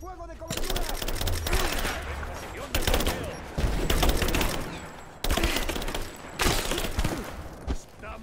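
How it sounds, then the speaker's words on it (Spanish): Heavy gunfire in Rise of the Tomb Raider: dense machine-gun bursts and shots loud and close, repeating in several waves across the scene with game dialogue and shouting woven underneath. "¡Disparo fuego de cobertura!"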